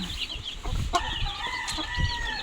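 A hen with newly hatched chicks clucks softly while high, thin peeping chirps from the chicks continue nearby, all in a farmyard setting.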